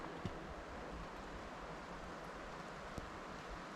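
Steady broadband wind rushes through a thru-hikers' camp on the Oregon Coast Trail near Cannon Beach, a constant airy hiss with occasional faint ticks, no voices.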